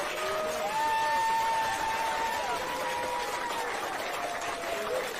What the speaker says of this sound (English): Let me give you the applause for that one.